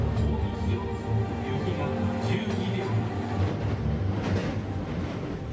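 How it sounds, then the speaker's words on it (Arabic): A speeding commuter train running toward Amagasaki station: loud, continuous rumbling and rattling of carriages in motion, with rhythmic wheel clatter and hiss throughout, heard from inside the train. "انطلق القطار بسرعة نحو محطة أماغازاكي."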